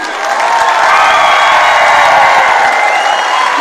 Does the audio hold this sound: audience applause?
yes